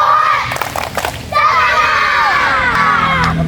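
Children in a school sports class chant together in a rhythmic sports clap, a loud crowd of young voices shouting in unison with brief claps, close and energetic throughout.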